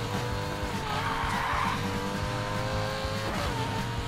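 A car drifting in the video game Need for Speed Payback, with loud sustained tire skidding and squeal over a steady revving engine that carries on without a break.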